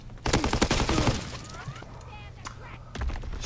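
Shotgun blasts in Call of Duty WW2 come as a rapid cluster of loud, close, cracking shots, then smaller scattered reports and game noise, with a voice talking over parts of it.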